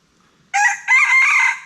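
A wild junglefowl crows in the forest once, close and clear, as a loud, strained call that breaks briefly and then carries on in a long wavering tail, with quiet surroundings before it.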